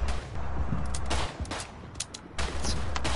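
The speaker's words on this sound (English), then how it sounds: "I'm getting shot at" Dense gunfire in the World War I shooter Verdun, a steady crackle of rifle and machine-gun shots with heavier bursts near the start, middle and end, loud and continuous with no talking.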